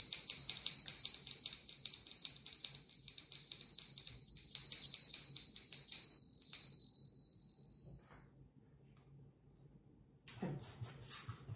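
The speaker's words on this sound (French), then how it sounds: "On va faire un petit coup de cloche quand même pour rappeler les esprits." A small bell is rung during a tarot card reading, giving a run of bright, repeated metallic rings that sustain and slowly fade over several seconds, alone and without talk, followed by quiet and a faint soft rustle.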